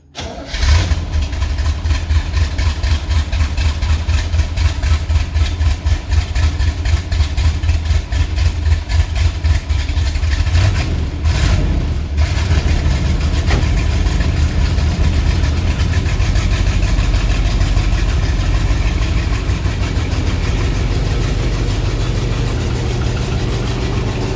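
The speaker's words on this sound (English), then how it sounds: "this is a good running Fuelie" A 1963 Corvette Fuelie convertible with mechanical fuel injection cranks and catches, then runs loud and close with a steady, lumpy idle for over twenty seconds and a brief blip of revs partway through, no voices.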